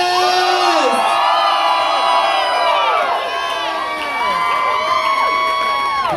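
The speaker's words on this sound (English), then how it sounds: "You can scream louder than that" A large crowd screams and cheers loudly, with many overlapping high-pitched shrieks and whoops rising and falling continuously.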